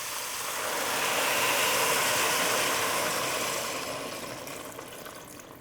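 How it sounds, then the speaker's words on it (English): Three cups of vegetable stock poured into a soup pot of butternut squash, a steady liquid rush swelling and then tapering off over several seconds, heard alone and close. "All right, I have 3 cups of veggie stock, and we're just going to pour this in."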